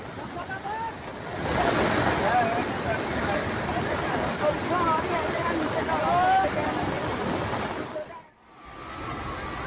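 A swollen waterfall on the Dahel river at the Maharashtra–Gujarat border, in flood after heavy rain, roars as a dense, steady rush of water, with a brief drop near the end.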